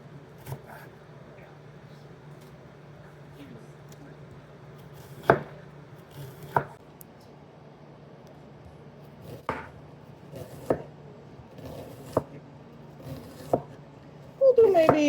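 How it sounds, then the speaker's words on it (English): Quarter of an onion given a rough chop with a kitchen knife for tomato bread soup, a handful of sharp knife-on-board knocks spread irregularly over the stretch, close and moderately loud over a quiet room hum. "And we'll just give this a rough chop."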